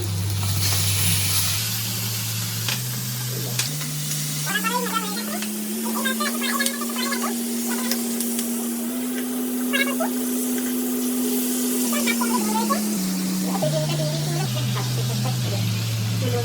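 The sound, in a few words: katla fish frying in a pan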